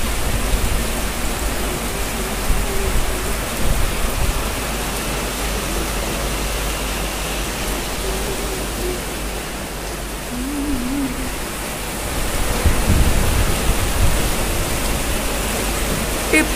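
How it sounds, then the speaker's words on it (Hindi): Steady, heavy rain hisses as a continuous wash of noise, loud and unbroken throughout. "बहुत तेज बारिश हो रही है"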